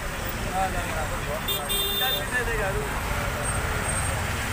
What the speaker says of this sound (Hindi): यहाँ की ट्रैफिक जो है यहाँ पर जो इतना ट्रैफिक हो रहा है